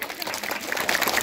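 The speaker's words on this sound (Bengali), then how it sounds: "হাততালি জোরে" Brief burst of audience applause at a gathering, a dense patter of many hands clapping at moderate distance, with some voices mixed in.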